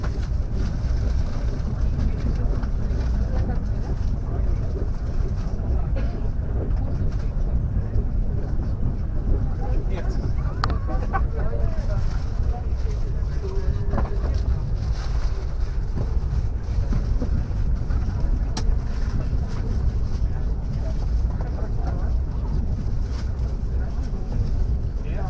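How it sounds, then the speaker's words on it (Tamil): A high-speed train between Moscow and St. Petersburg gathering speed, a steady low rumble and hum of the carriage running continuously at moderate level, with a passenger talking over it. "இப்போ தான் ஸ்பீட் எடுக்குது ட்ரெயின்."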